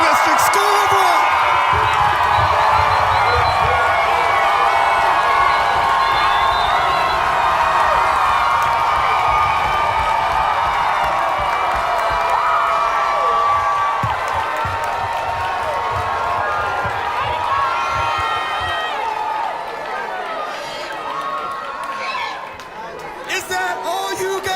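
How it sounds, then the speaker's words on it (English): A graduation audience at a Cleveland Metropolitan School District School of Rock ceremony cheers loudly and continuously, with whoops, shouts and applause from a large crowd that stays steady before tapering slightly at the end. "I need you to cheer for your baby that is about to graduate"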